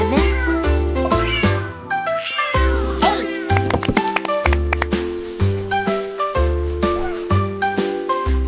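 A cartoon cat meows repeatedly over a bouncy French children's counting song, the meows rising and falling above steady bass notes and light tinkling accompaniment throughout.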